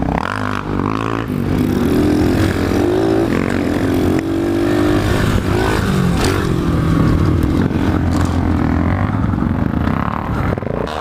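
A pit bike engine drones loudly and steadily on a group trail ride, with its chain clattering and rattling under hard braking, the rider's exhaust note rising and falling with the throttle.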